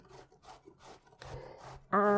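Pumpkin being grated by hand for bhaji burgers, a series of soft rasping strokes building in rhythm, close and fairly quiet, ending with a louder burst.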